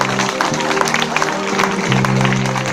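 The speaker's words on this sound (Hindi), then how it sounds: "तालियां चाहता हूं आप सभी की इस गाने के साथ।" An audience at a Sunderkand devotional gathering claps along with a patriotic song, a steady dense patter of hands running beneath sustained sung and instrumental tones throughout.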